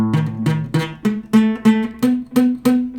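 A guitar strums a slow sequence of open chords, each ringing with a rough, rattly buzz from poorly fretted strings, about eight strums in a steady rhythm.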